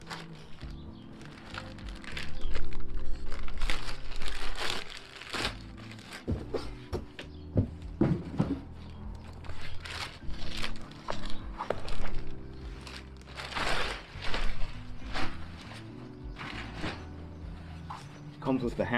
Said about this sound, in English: So here's the mattress. Comes in a plastic bag, sealed up.